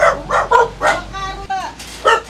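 Dog barking near a house door, several short, sharp barks in quick succession, close and loud, with a whining yelp between them.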